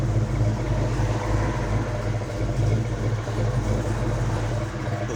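A warmed-up 1969 Chevrolet Chevelle SS engine idling steadily, a low, even rumble heard close and alone with no talk.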